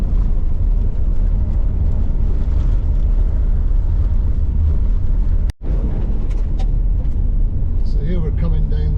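A car drives a rough, loose road on a tourist drive near Norseman in Western Australia, giving a loud continuous rumble with rattling and wind buffeting. The noise cuts out briefly midway and then returns.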